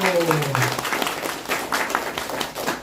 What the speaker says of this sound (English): we will clap for all of you one more time